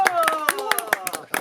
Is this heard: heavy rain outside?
no